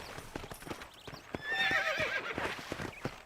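Horse hooves clip-clopping in a steady rhythm under a loud, rising neigh in the middle, from a ridden horse in the Western video game Red Dead Redemption, fairly close.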